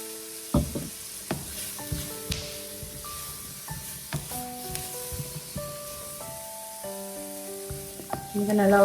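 Onions and cumin seeds fry in a pan on high heat with cooking spray, a steady close sizzle broken by scattered stirring clatters and bright clinks.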